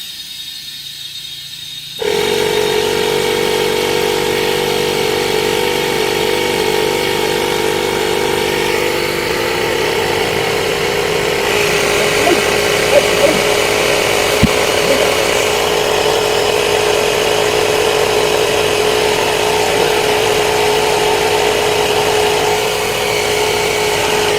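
Small portable air compressor inflating a car tire: after a short quiet moment a loud, steady mechanical drone starts and runs without a break for over twenty seconds.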